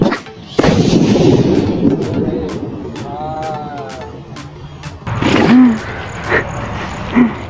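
A calcium carbide and water explosion booms loudly with a sudden sharp blast followed by rumbling noise, then a second heavy bang and a few thuds.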